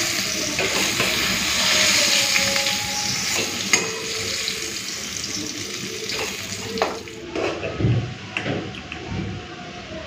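Pointed gourd frying in a pan, a steady crackling sizzle with scraping stir sounds and some clatter, without talk.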